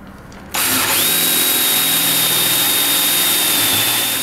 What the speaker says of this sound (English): Okay, so let's go ahead and drill our holes.